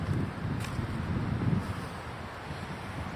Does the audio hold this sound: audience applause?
no